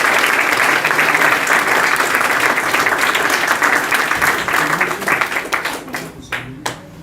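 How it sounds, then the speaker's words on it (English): A crowd at a junior club awards night gives a round of applause. The dense clapping stays steady and loud for several seconds, then thins into scattered claps as it fades out. "A round of applause for my dad"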